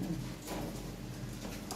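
Lahori Sirazi pigeons, a breeding pair among a loft of birds, coo in low, steady murmurs that continue throughout without a clear break.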